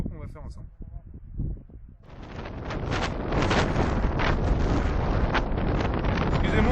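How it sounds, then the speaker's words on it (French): A strong, gusty wind on a mountain trek buffets the microphone as a steady, loud roar that builds after a couple of seconds and holds to the end, with a person speaking briefly at the start. "Excusez-moi encore une fois pour le vent, mais alors là on a une bise de dingue"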